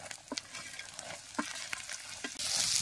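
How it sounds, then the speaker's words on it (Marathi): Pavta beans being stirred in hot oil with mustard seeds, cumin and chutney in a tawa over a wood-fired earthen stove. Soft scraping stirs recur through a low frying sizzle, which swells louder near the end. "चटणी बी तेलात अशी चांगली भाजून आता याच्यात पावट टाकायचं"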